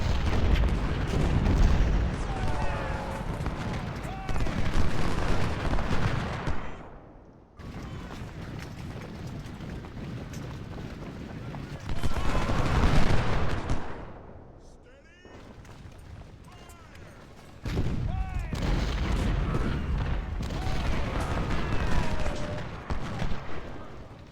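Artillery batteries and rifles fire across a Civil War battlefield in Ultimate General: Civil War, dense rumbling volleys and booms rolling on in sustained bursts that swell and ease, with someone talking over much of it.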